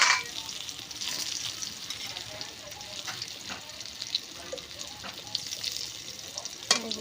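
Gentle sizzling of pointed gourd frying in a pan over a clay stove, with soft scraping and stirring clicks throughout, close and moderately quiet.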